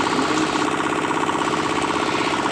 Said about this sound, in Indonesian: Mesin hidup normal.